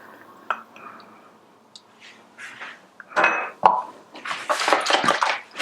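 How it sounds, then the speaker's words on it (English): Yogurt and sour cream are stirred together in a bowl for a Serbian cheese pie, giving wet squishing and light clinks of a utensil against the bowl that grow busier toward the end. "That's the yogurt and some sour cream, and we're gonna mix it again together."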